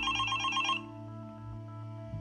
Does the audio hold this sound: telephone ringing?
yes